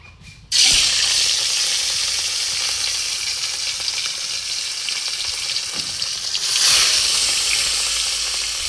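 Rohu fish pieces coated in salt and turmeric sizzle loudly in hot oil in a pan, a steady close frying hiss that swells when another piece goes in.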